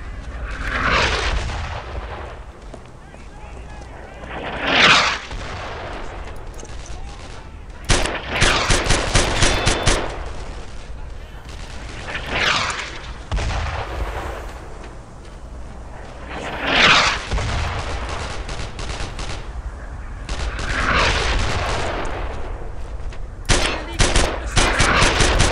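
Grease gun fire in the Brothers in Arms World War II shooter, loud repeated bursts of automatic gunfire with booming explosions and battle noise between them, continuing without a break.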